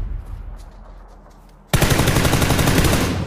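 Sustained automatic gunfire in PUBG erupts loud and close after quieter distant shots, a rapid rattling stream of rounds that keeps going without a break.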